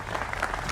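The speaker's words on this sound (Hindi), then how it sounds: "उसका भी अभिनंदन है जोरदार तालियों के साथ।" A brief wash of audience applause fills a television election-debate studio. The clapping is dense and even, and it is heard alone for under a second.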